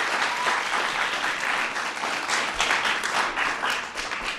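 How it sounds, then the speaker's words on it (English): Audience applause for the LA Galaxy soccer team at a children's event, sustained dense clapping from a crowd, steady and loud throughout. "So let's give them a big round of applause."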